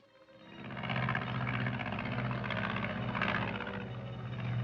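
Engine drone of an airplane in flight, swelling in quickly and then holding at a steady, moderately distant level, with no voices over it.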